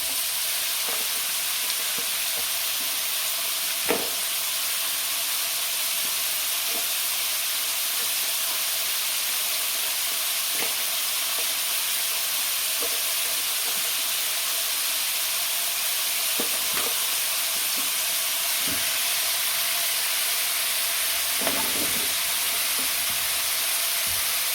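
Prawns fry in ghee for a prawn ghee roast, a long, even, hissing sizzle with occasional faint pops and light utensil clicks, steady and close with no talking.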